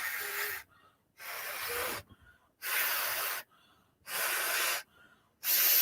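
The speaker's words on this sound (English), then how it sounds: "I'm just blowing through air through the slots to clear them out" Four or five short, forceful puffs of air are blown through the slots of model train wheels, each a breathy hiss separated by brief pauses, close and alone.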